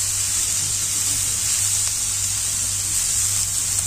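Clams tipped into a hot pan and sautéed for a clam dish, producing a loud, dense, continuous hissing sizzle close by with no pauses.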